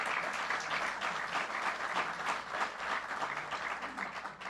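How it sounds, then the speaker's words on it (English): An audience at a Bronx government event breaks into sustained applause, a dense, even wash of clapping heard from a moderate distance and holding steady throughout. "you can clap for that"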